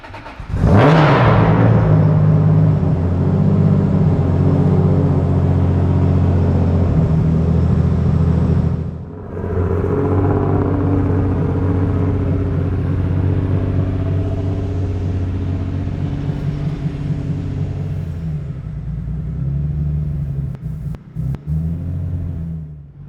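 An 800 HP 2JZ engine swapped into a Scion FRS, loud and close, idling with a deep rumble, revving hard at the start, dipping briefly, then droning steadily before cutting out.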